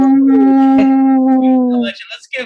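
A group of people imitating wolves with one long sustained howl, a strong steady pitched voice with harmonics held for about two seconds, then trailing off into scattered voices.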